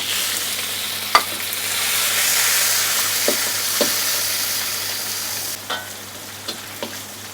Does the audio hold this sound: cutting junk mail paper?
no